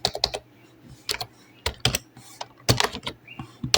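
Quick bursts of keystrokes on a computer keyboard as text is entered in Photoshop, clicking in short irregular clusters with brief pauses, close and alone.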